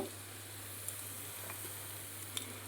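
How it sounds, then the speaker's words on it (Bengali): Garlic frying in a pan while being stirred, a steady soft sizzling hiss with a few faint scraping taps from the stirring, heard alone with no talking. "যতক্ষণ কাঁচা গন্ধটা থাকবে ততক্ষণ একটু নাড়াচাড়া করে ভেজে নিতে হবে"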